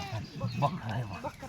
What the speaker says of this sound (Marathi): बकरा आहे